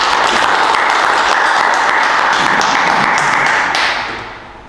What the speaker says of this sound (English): we should give you a bit of clap